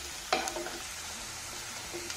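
Sliced onions with ginger and curry leaves fry softly in oil for masala upma, a quiet sizzle broken by a sharp stirring clack near the start.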